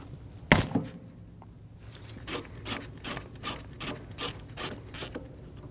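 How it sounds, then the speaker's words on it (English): Hand ratchet on an 11mm socket loosening the brake-line banjo bolt on a Volkswagen Passat rear brake caliper, one sharp knock and then a quick series of about eight clicking ratchet strokes, close and fairly quiet. "Using an 11mm socket, we're going to remove the banjo bolt."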